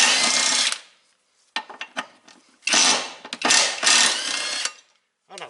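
A large impact gun rattles off cross member bolts on a 2001 Ford Mustang, loud close bursts of hammering with short gaps between them.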